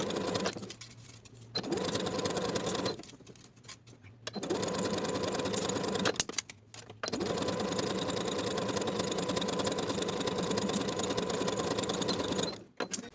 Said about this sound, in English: Then we'll sew these pieces in place with a 3/8 inch seam allowance.